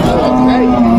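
An Indian bullock moos at the Panchbibi cattle market, a single sustained, steady low call lasting about a second, close and loud with faint crowd murmur behind it.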